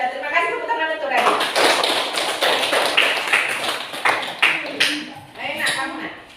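Classroom applause for a student at a junior high school, a burst of quick, close hand claps from a group that begins suddenly, rolls on for several seconds and tapers off, with a voice speaking at the start.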